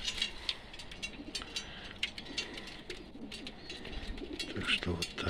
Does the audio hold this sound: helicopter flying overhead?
no